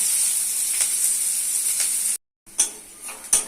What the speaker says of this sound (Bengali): এতে দিয়ে দিচ্ছি গোটা জিরা দিয়ে দিচ্ছি পেঁয়াজ কুচি